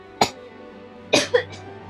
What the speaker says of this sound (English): Sorry, I'm coughing a bit.